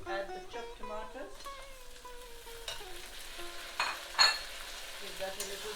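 Chopped tomatoes hitting a pan of frying garlic, with a soft sizzle and a few stirring scrapes and clinks, fairly quiet and close.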